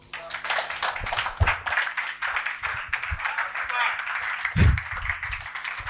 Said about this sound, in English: you can actually increase the tempo of your clap